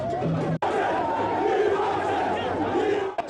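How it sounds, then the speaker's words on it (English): A large crowd shouting and chanting slogans at a political gathering in Ghana, a dense continuous roar of many voices with a brief break near the start, loud and close. "shouts of "Yesisem, change is coming" filled the air"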